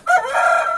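A carijó rooster lets out one close, loud crow lasting under a second, bright and ringing, with no voices over it.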